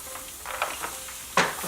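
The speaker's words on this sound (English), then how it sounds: "You know they have a good start when you hear that sizzle." Carrots and broccoli coated in oil sizzle on a hot baking sheet, a faint crackling hiss broken by a few soft scrapes and one sharper clink of metal.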